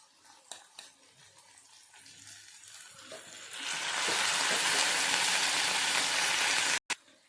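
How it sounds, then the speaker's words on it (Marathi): Water draining off soaked rice in a home kitchen for matar pulao: a few light clicks and faint handling noises, then a loud, steady rushing pour that starts midway and keeps going almost to the end. "तांदूळमध्ये सर्व पाणी आपल्याला इथे काढून घ्यायचं आहे"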